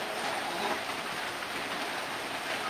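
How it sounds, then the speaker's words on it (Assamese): Heavy monsoon rain pours steadily during a regional storm with thunder and lightning, a dense, continuous hiss of drops drumming on surfaces, close and loud with no letup and no voices. "ৰাজ্যৰ প্ৰান্তে প্ৰান্তে এইদৰে বৰষুণে তাণ্ডৱ চলোৱা দেখিবলৈ পোৱা গৈছে"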